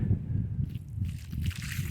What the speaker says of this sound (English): Now I'm just gonna water that in